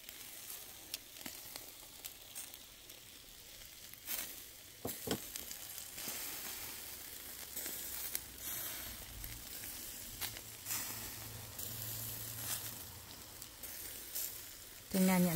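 Sausages sizzling and frying in a pan, a continuous crackling hiss with scattered sharper pops and a few knocks as they are moved, close by, with no voices.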